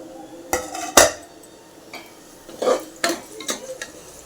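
Onions being stirred as they sauté in a pot for home-style chicken biryani: a spoon clanks and scrapes against the metal in several sharp, irregular strikes over a soft background, with no talking.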